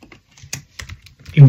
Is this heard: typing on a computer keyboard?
yes